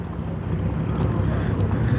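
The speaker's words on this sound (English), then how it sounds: "The 6-cylinder engine." A six-cylinder engine on a classic car at the Pembrokeshire Classic Car Show runs with a steady, smooth low rumble, close and continuous, with outdoor wind noise over it.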